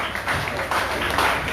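Audience clapping at an outdoor family festival organized by a local social services center, a steady broad wash of many hands applauding throughout the moment.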